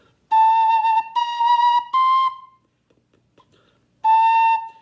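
Breathy cane flute notes played alone, three sustained tones stepping slightly upward, a pause, then one more held note; clear and close.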